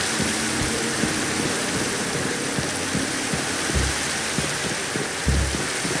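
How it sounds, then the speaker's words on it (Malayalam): Rain pours steadily in the Minecraft video game, a dense, continuous hiss of falling water with occasional low rumbles, no voices present. "പക്ഷെ എന്ത് മഴയാണല്ലേ ഗൈസ്."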